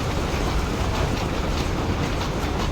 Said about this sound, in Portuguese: Eu tenho que esperar o trem.